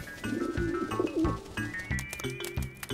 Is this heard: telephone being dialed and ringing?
no